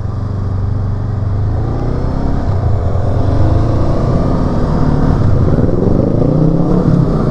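A 2023 Honda CL500 Euro5 motorcycle cruises along a road, its engine droning loud and close with gently rising and falling pitch under steady wind rush.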